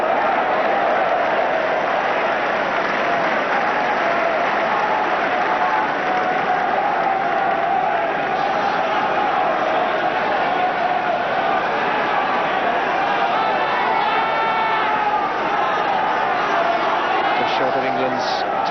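A stadium crowd at a 1983 England versus All Blacks rugby match roars continuously, loud and unbroken, with commentary speech running over the noise.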